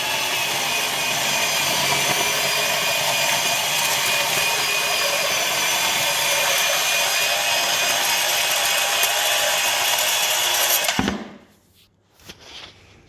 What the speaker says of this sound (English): we found this Milwaukee M12 bandsaw, and it's just absolutely brilliant